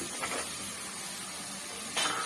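Drumstick pieces tossed into a pan of sautéed onion and tomato, a soft continuous sizzle with two brief brighter bursts of hiss as pieces hit the hot oil, fairly quiet.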